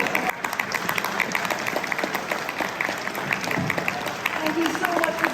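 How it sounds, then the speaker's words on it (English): Applause from a retro game convention panel crowd, a steady dense patter of clapping that fills the room, with some voices mixed in. "Can we give a massive round of applause?"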